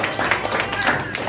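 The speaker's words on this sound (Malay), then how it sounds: "Coba berikan tepuk tangan buat Tuhan Yesus." A church congregation at a Mandarin-language service claps together in a short, steady burst, with voices mixed in.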